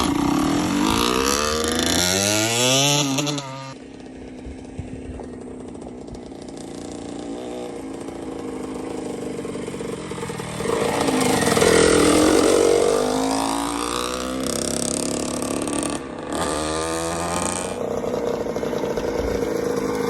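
A rescued 2-stroke motorcycle pulled from a shed, with a blown motor, fresh spark plug and new gas, runs after a first kick start: a loud, close, raspy buzzing engine revving up and down continuously throughout.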